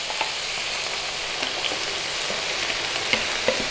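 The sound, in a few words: beef stock added to sizzling beef mince and onion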